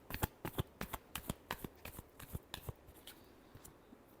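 Tarot cards being shuffled in a rapid run of crisp riffling bursts, about a dozen close sharp flutters that slow and fade toward the end, with no talk.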